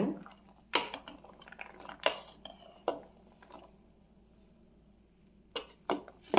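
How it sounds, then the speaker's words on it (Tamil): A spoon stirring soya gravy in a metal pot gives a few sharp clinks and knocks against the sides, separated by quiet gaps with soft scraping between them. "அதை கலந்து விட்டுட்டு இப்படி கலந்து விட்டுட்டு"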